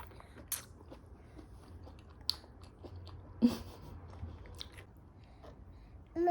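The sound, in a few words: eating and chewing food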